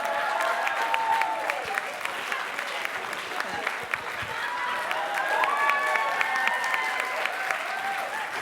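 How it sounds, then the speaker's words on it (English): Applause and scattered cheering from a boot camp audience, a crowd clapping steadily while a voice with rising and falling tones runs over it throughout. "Ooh, is someone cheering for this?"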